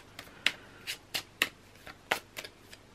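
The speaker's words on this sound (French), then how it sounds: "on va prendre une carte magique de Nad pour savoir" Oracle cards being shuffled and drawn, heard as a series of about eight crisp, close flicks and riffles in an uneven rhythm, with no voices.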